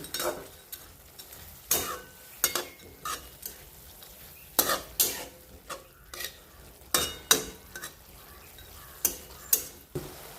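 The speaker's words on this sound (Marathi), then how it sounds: "इथे चांगलं हलवून घ्यायचे" Onion kurdai stir-fry being stirred in a pan: repeated sharp scraping strokes of a spoon against metal, spaced irregularly over a soft sizzle, close and fairly loud, with no talk.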